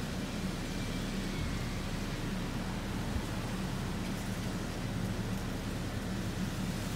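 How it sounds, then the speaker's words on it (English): Steady, broad rushing wind from a storm outflow roars outdoors in St. Petersburg, Florida, scattering leaves, a constant loud whoosh with no talking. "It's a good gust."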